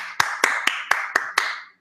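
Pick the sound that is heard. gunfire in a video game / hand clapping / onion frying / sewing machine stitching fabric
hand clapping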